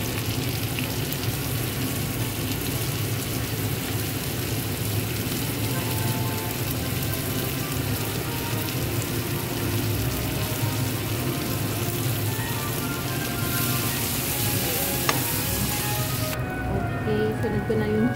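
Garlic and onion frying in a pan, a steady dense sizzle and crackle that holds loud and close for the whole stretch, with faint background sounds underneath.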